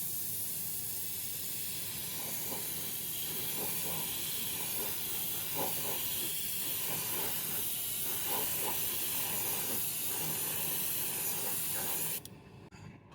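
An airbrush sprays gloss enamel paint in a steady, close hiss, with soft pulses where the trigger eases and resumes, before it cuts off near the end.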